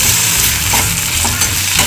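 Steady sizzling of onion and tomato sautéing in a pan, with the occasional scrape of stirring, close up and with no talking.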